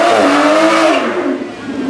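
A road-legal supercar engine at the Goodwood Festival of Speed pulls hard past, loud and close at first, its rising roar fading slightly as the car moves away.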